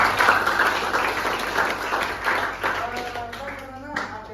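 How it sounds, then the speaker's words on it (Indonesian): Audience clapping at a Valentine's Day pro-versus-contra debate, a steady broadband patter of many hands filling the room for a few seconds, with voices murmuring underneath toward the end. "tepuk tangan untuk kita bersama"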